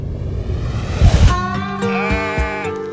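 A sheep bleats loudly and close by, one drawn-out wavering cry that rises after a rustling, low-noise start, standing on its own without talk.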